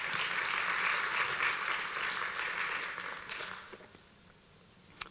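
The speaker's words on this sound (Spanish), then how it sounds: "denle un aplauso al Señor" A church congregation at a Spanish-language service applauds, dense clapping that fades to scattered claps and near silence by the end, with one sharp clap at the close.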